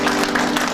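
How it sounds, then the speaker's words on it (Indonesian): A church congregation applauding together, a short, dense, loud wash of many hands clapping at once, with a steady tonal hum running underneath. "Beri tepuk tangan kepada Tuhan."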